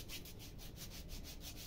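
Sandpaper being rubbed by hand over a wooden handicraft piece, a quiet steady rasping in quick rhythmic back-and-forth strokes, close by and with no talking.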